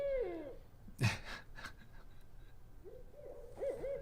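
Turkeys give warbling, wavering calls, one burst at the start and another near the end, with a sharp thump in between, all fairly faint against a quiet background.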